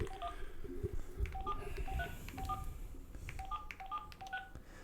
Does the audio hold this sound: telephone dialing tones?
yes